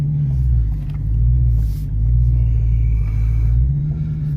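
A Dodge Challenger Scat Pack widebody engine rumbles deep and loud nearby, its low throb swelling and easing in a few gentle revs.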